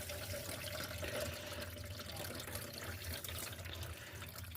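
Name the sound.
water filling an aquarium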